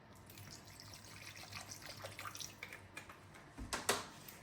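Vinegar poured into a pan of cooking apple pickle, a soft steady trickle of liquid near the pan with a few clinks toward the end.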